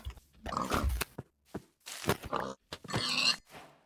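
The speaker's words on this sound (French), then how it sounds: "Il y a un cochon, il y a cochon," Pig grunting in the Minecraft video game, a series of short game-sound grunts in bursts with brief gaps, clear and moderately loud, no talk.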